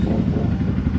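A Honda CRF 150L motorcycle engine idles steadily up close, a continuous low chugging rumble with a faint mechanical clatter and no break in level throughout.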